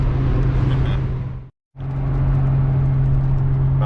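A car cruising on the highway gives a steady, loud low rumble and road whir throughout, broken by one brief total dropout midway before the same drone resumes.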